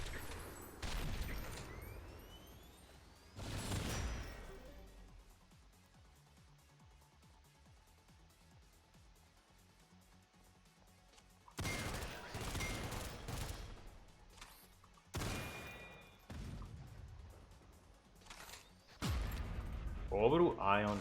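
Gunfire bursts in the video game SYNTHETIK 2, with several loud clusters of rapid shots separated by quieter stretches, partly under talking.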